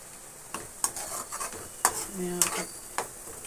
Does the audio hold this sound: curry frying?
yes